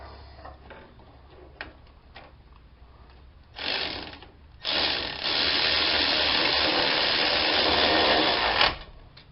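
A ratchet tightens 18mm bolts on the rear wheel bearing hub of a 2004 Ford Expedition. Scattered clicks lead into a short burst, then a long run of loud, rapid ratcheting close by, with no talking.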